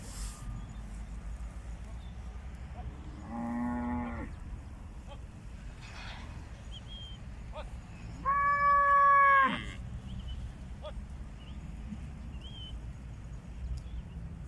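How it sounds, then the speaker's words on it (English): A large herd of cattle grazes in open country, with two drawn-out moos, one fainter around four seconds and a louder, nearer one later, over quiet outdoor background. "there's some cows grazing this area, as I said before. It's a huge herd of cattle."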